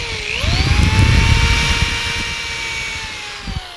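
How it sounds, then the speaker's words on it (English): A cordless drill whines steadily as it bores a pilot hole in wood for a wine rack build, the motor pitch settling and slowly fading, loud and close with no talk. "I'm going to average this over here, drill my pilot hole."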